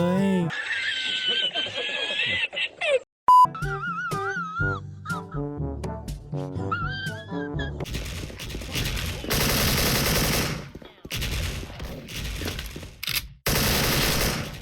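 AK74 rifle fire in the online shooter Special Force, with several loud bursts of automatic shots in the second half, after a stretch of music and voices; people talk and laugh around the shooting.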